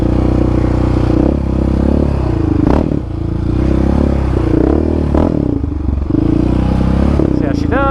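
Yamaha Raptor 700 ATV putting along a narrow single track in first gear, a loud, close, low engine drone with uneven throttle surges and clattering and scraping from the trail.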